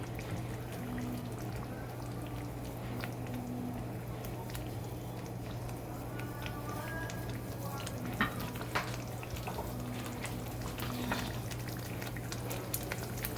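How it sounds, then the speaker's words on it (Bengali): Curry broth for koi fish bubbles and simmers in a pot, a soft steady boiling hiss with occasional small pops and a low hum underneath. "ঝোলটা ফুটে উঠছে"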